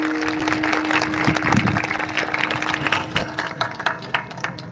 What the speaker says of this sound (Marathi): देठापासून त्या लेकरासाठी टाळ्या वाजवा.